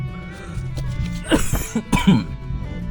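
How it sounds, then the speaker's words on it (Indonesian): A loud cough from a laughing man, two or three harsh close bursts in the middle of a short quiet stretch. "Sorry gue batuknya agak keras karena ngakak."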